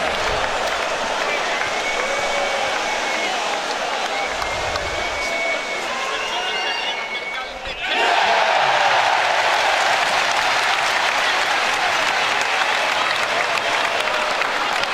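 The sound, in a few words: basketball crowd applauding free throws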